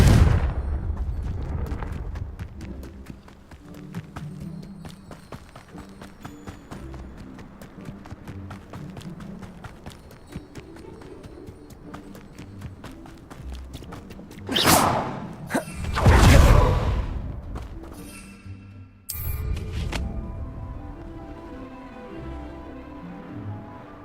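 A Confringo blasting spell is cast in Hogwarts Legacy, giving loud whooshing bursts around the middle of the clip over a steady game soundscape, followed by another sharp blast near the end.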